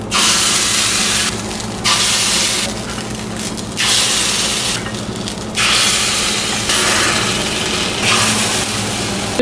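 Dosa batter poured from a ladle into a hot pan for kundu dosa, giving a loud, steady hiss and sizzle that surges in repeated bursts over a constant low hum, close and alone without any talk.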